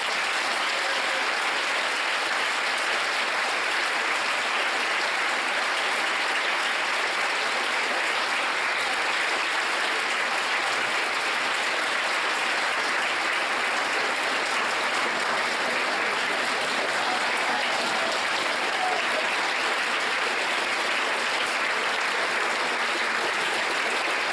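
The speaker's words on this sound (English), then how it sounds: "let's give them all a round of applause" A crowd at a school senior blazer day ceremony gives the graduating class a long, steady round of applause, a dense hiss of clapping that holds at an even level throughout without speech.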